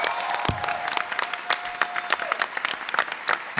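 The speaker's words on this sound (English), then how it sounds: "let's give him another round of applause, Hans Beimler." Comic-Con crowd applause during a table read, busy uneven clapping with a few sharp nearby claps and a thump, plus a faint whoop within the crowd.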